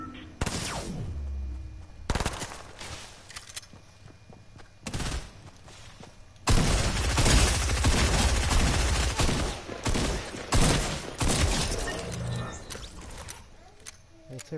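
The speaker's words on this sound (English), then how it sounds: "Somebody's shooting at you." Gunfire in a PS4 shooter game, bursts of shots crackling at intervals and then a long sustained barrage of rapid fire, with a player talking between the volleys.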